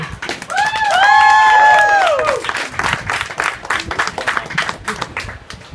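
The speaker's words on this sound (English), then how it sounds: "give a round of applause for this awesome dude" Comedy club crowd applauding and cheering as comedian Guy is welcomed on stage at a comedy night at Toby's, a dense wash of clapping with a rising whistle or whoop near the start, loud and sustained before easing slightly.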